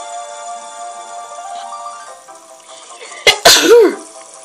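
A single sharp sneeze bursts out near the end, loud and close, following a few seconds of quiet background tones from The Legend of Zelda: Ocarina of Time 3D.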